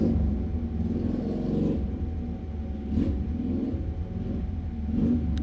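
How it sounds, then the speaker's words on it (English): A motorcycle engine rumbles steadily nearby, its low throb rising and falling slightly. "I don't know if you guys can hear my neighbor with the motorcycle."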